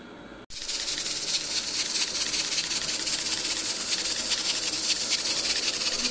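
A pressure cooker hisses steadily while cooking beef karahi, a loud continuous broadband steam jet that starts abruptly after a brief pause and holds without letting up.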